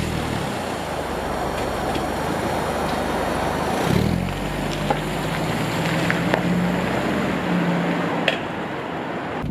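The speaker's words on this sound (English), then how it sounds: "I am driving a Vauxhall Carlton estate, light blue, and it's older than me." A light blue 1993 Vauxhall Carlton Estate drives along a road, heard from inside as a steady low engine drone with road and tyre rumble, a brief shift in tone midway, and no talk.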